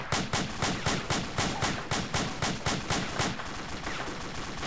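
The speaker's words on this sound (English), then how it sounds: "No, that is machine gun fire. That is enemy fire." Rapid enemy machine gun fire in Arma 2, a steady train of loud, evenly spaced bursts from close range that runs for several seconds with no talk over it.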